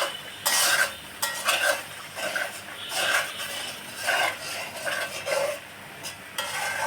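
Steady stirring of masala frying in a pan for shahi korma, repeated scraping strokes in an even rhythm over a soft sizzle, close and clear with no talk.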